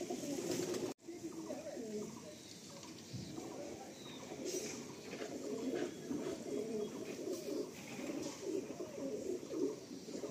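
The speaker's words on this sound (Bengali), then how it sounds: "আর দেখছি ফুলসিরা পায়রা বেশ অনেকগুলো রয়েছে" Steady low cooing from many pigeons fills an enclosed pigeon loft, a continuous murmuring drone with occasional soft rustles.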